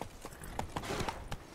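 Horse hooves clop on the ground in The Witcher 3 in a few steady steps, fairly close and moderately loud.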